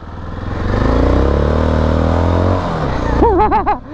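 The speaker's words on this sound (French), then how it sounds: "On a l'impression d'un embrayage qui patine, mais en fait non, c'est la roue qui patine." A MASH X-Ride 650 trail motorcycle with a 21-inch front wheel revs as its rear wheel spins on a dirt trail, a loud rising engine drone, followed by a short burst of voices at the end.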